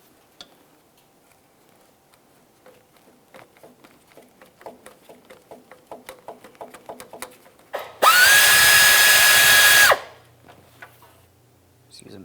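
Power tool drives out the power steering rack mounting bolt on a 2002-2009 Chevrolet Trailblazer with a 1/4 inch 8mm socket and extension: a loud steady whir for about two seconds, preceded by a run of rapid ratchet ticks.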